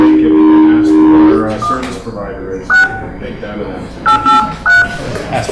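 Telephone keypad DTMF tones dialed to reconnect a teleconference phone system: a string of short, clear beeps in two bursts, with people talking around them.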